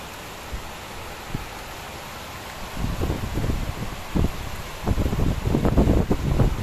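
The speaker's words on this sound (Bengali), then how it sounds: "অনেক বৃষ্টি হচ্ছে, অনেক।" Heavy rain falls at night as a constant broadband hiss, with low gusty rumbles of wind buffeting the microphone that grow stronger toward the end.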